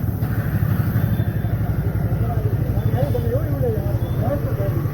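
A Freedom CNG motorcycle engine runs steadily nearby with a low, throbbing rumble, while a voice speaks over it.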